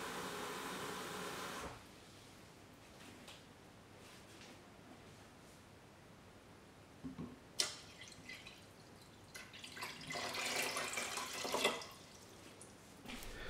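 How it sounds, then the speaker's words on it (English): Water is poured into a 4-liter kettle, 3 liters in all, giving faint, intermittent splashing and trickling bursts against quiet background noise, louder toward the end. "we are pouring only 3 liters of water to leave enough space for steam separation"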